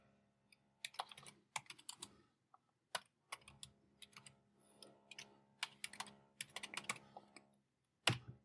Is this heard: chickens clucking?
no